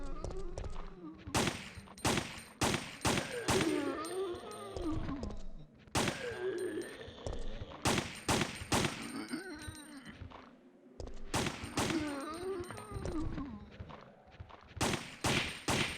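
Gunfire in the video game Resident Evil 3: Nemesis, sharp loud shots in quick bursts separated by brief pauses, with groans and other game sounds between them.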